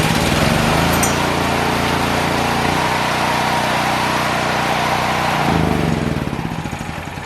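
A small generator engine, started with a cordless drill fitted to the crankshaft, runs with a loud, steady buzzing rattle close by, then eases off and quiets in the last second or so.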